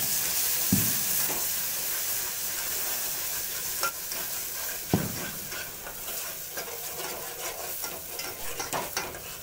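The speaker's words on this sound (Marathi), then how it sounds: "तेल गरम झाल्यानंतर ना आलं लसूण टाकलं आणि आता मच्छीचा" Fish masala with ginger and garlic frying in hot oil while being stirred, a steady close sizzle with occasional scraping strokes of a utensil in the pan.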